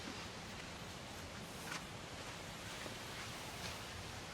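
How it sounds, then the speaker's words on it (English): Strong, steady wind roars across the microphone with continuous rushing gusts, no voices, outdoors in an old residential subdivision in Bacolod. "So windy and breezy today"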